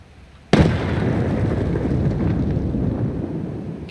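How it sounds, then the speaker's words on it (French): A grenade explodes in the video game Escape From Tarkov, a sudden sharp blast followed by a long, loud rumbling roar that fades only slightly. "Grenade."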